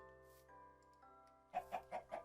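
Chickens in Minecraft give four quick, bright clucks in a row near the end, following a quieter stretch carried by steady background music.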